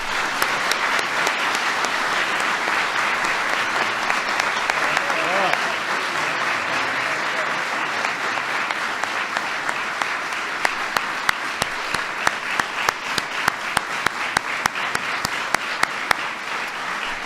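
A White House audience applauds visiting NBA champions with a long, loud, sustained round of clapping that later breaks into more distinct individual claps near the end.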